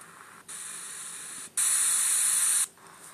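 Radio signal static from a star in an indie video game: a steady broadband hiss that steps up in two bursts, the second louder, then cuts off abruptly, with no voices.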